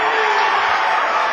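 A high school basketball crowd in a gym cheers loudly in a sustained, dense roar that fills the whole moment.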